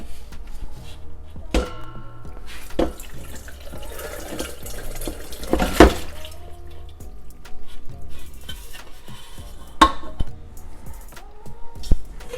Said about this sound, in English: So I'm going to drain the pasta now.